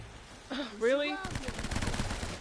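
Gunfire in a video game, a rapid automatic burst rattling for about a second after a short voiced exclamation, loud and close.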